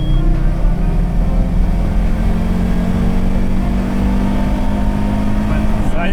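An Audi S4 accelerates hard, its engine drone loud and steady throughout with a rising harmonic tone, heard from inside the car while people talk over it.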